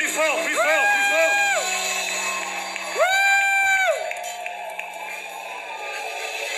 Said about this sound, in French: Sous vos acclamations, est-ce qu'on peut acclamer plus fort, plus fort, plus fort?